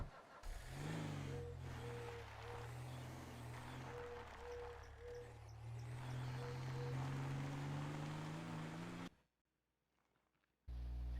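A car engine in the video game GTA 5 hums and revs steadily as the vehicle drives off, with faint musical beeps over the drone, a brief drop to near silence, then the engine returns.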